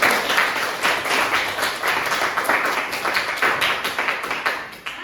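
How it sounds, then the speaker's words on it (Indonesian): A classroom of students claps together in a sustained round of applause, with dense, steady hand claps close by that continue for several seconds before ending with a few final claps. "Beri tepuk tangan."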